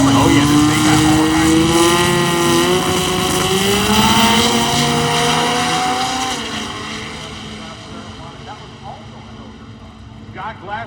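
Drag race cars launch and scream down the strip at Hot Rod Drag Week, a loud rising engine roar that fades into the distance, with a commentator talking over it.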